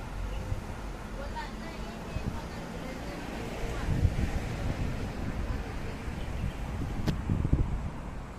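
Wind gusting outdoors, buffeting the microphone in a constant rough rumble, with occasional voices in the background.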